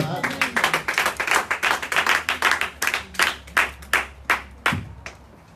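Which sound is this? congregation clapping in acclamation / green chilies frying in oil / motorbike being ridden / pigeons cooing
congregation clapping in acclamation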